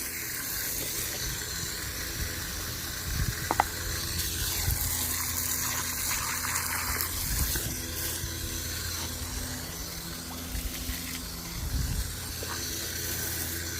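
Water pours and hisses steadily into a container for young chickens, a continuous rushing, splashing wash with a few louder knocks and rubs and no talking.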